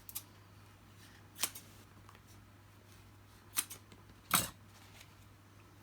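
A few sharp, quiet snips cut through a faint hum, spaced unevenly, with one longer, louder cut near the end.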